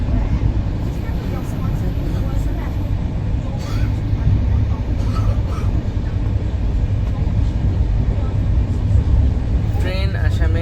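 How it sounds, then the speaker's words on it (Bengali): Saraighat Express train running toward Ajara station in Assam, with a steady, loud low rumble and rattle of the moving train throughout. "ট্রেন আসামে আজারা স্টেশন ঢুকতে চলেছে"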